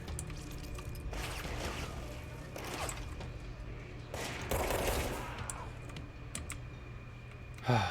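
Gunfire in the action video game Control, bursts of shots breaking out in several clusters over a steady background hum, moderately loud and close, with no talking.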